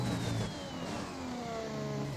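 F1 car engine in the racing game F1 2021, driven without traction control, a smooth high revving whine with pitch gradually falling as revs dip, steady and fairly faint throughout.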